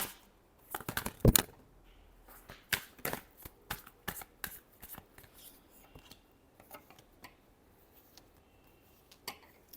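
Tarot cards are shuffled by hand in a quick series of crisp riffling flicks and slaps, loudest early on, then softer, sparser taps trailing off in a quiet room.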